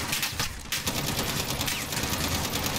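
Rapid automatic gunfire from a Modern Warfare campaign mission, loud and continuous bursts of dense cracking shots filling the whole moment without pause.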